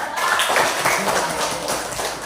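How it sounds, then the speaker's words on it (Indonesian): Classroom applause, a dense patter of many hands clapping close by, steady for the whole stretch with faint voices mixed in. "Tepuk tangan dulu"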